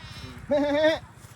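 A goat on a farm lets out one clear, wavering bleat lasting about half a second, loud and close, over a faint background murmur.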